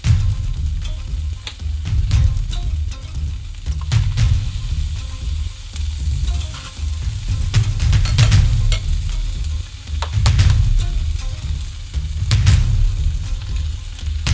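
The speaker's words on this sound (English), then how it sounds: "Now we'll add the butter and crack an egg for the sandwich." Butter and an egg fry in a pan for a sandwich, giving a steady crackling sizzle with bursts of spatter and occasional scraping and stirring, close up and with no talking.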